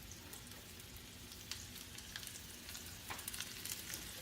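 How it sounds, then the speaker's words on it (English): Onions fry in hot oil in a pan for Kerala kadala curry, a steady close sizzle and crackle with a few sharper pops and spatula scrapes toward the end. "let me mix that in completely, and I want to cook the onions till they become a little bit translucent"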